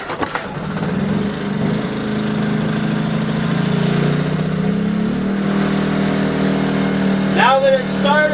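A Predator 2000W inverter generator engine runs steadily after starting, a loud continuous drone that shifts pitch partway through, with a brief higher whine near the end.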